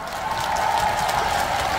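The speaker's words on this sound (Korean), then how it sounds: "우리 정말 간절한 마음으로 무대에 서서 가수가 되기를 꿈꾸시는 모든 출연자 여러분들께 우리 다 같이 박수 한번 보내드릴까요?" Audience applause in a trot music show hall, a steady dense wash of clapping that holds at an even, fairly loud level with a faint sustained tone running underneath.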